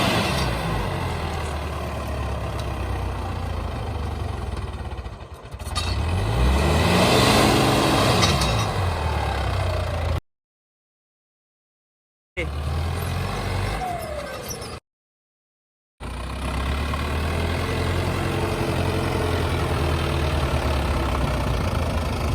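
Mahindra Arjun 555 tractor engine with a modified setup, revved hard at full throttle, a loud continuous close roar that rises and falls, with two brief gaps of silence.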